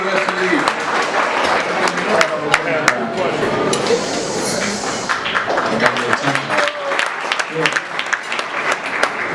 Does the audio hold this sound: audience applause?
yes